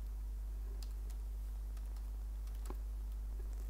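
Someone types on a computer keyboard at a steady pace, sparse quiet key clicks sounding over a low background hum with no talking.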